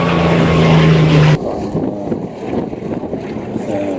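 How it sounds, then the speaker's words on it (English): Bristol radial-engined aircraft at the Duxford Flying Legends air show, a loud steady engine drone with wind buffeting the microphone, dropping suddenly to a rougher, quieter rumble partway through. "Radial engine, normally you find the same arrangement on the Blenheim."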